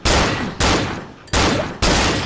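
Four loud, close gunshots in Cry of Fear, each a sharp blast with a long booming decay, spaced roughly evenly about two-thirds of a second apart, with no voices.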